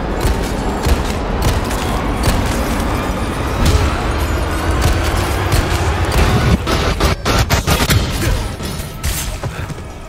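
Rapid gunshots from the Resident Evil 4 video game fire in dense bursts across the whole stretch, loud and close, with repeated crashing impacts mixed in and no clear voice.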